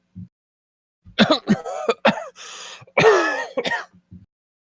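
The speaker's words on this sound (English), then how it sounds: "He devolves into a coughing fit." A man coughs and clears his throat in a harsh, hacking fit, several rough bursts separated by short gasps, close and loud.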